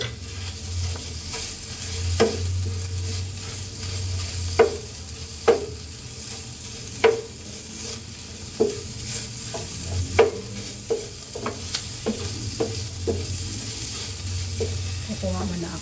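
Ground meat sizzles steadily in a pan while a utensil stirs and scrapes it, with irregular sharp taps against the pan over a constant frying hiss.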